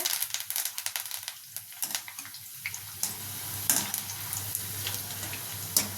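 Peanut pakodi fry in hot oil with a steady bubbling sizzle, crackling pops rising and falling as fritters are dropped in one by one, close and moderately loud with no talk.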